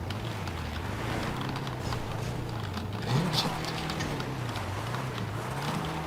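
A car engine in the video game GTA 5 Online, a rather underpowered car, drones steadily with a pitch that rises and falls as it drives, while voices talk over it.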